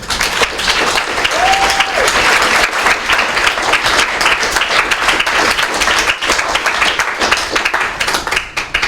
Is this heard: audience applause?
yes